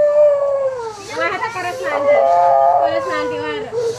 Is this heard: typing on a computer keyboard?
no